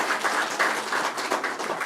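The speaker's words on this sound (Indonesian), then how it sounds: "Di sini tepuk tangan buat beliau." An audience at an Indonesian chamber of commerce economic discussion gives brief applause, a fairly near patter of many hands with uneven bursts and no voices over it.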